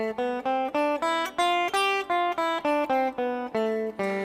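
A Mixolydian scale is played note by note on a bright, sustained keyboard-like instrument, about a dozen evenly spaced tones stepping upward, clear and alone with no talk.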